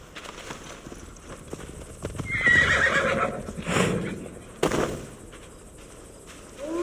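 A horse ridden in the video game Assassin's Creed Valhalla, with a clear whinny followed by hoof clops and rustling movement at close range.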